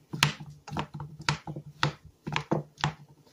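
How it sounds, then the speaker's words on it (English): Potatoes are mashed in a pot with a masher, giving rhythmic, close knocking and squelching thumps about twice per second, steady and fairly loud with no talking. "I'm mashing my potatoes."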